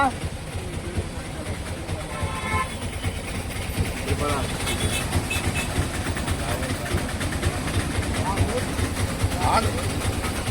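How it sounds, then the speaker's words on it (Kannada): Low engine rumble of an idling train fills a busy railway station in Andhra Pradesh, with people talking in the background throughout. "railway station"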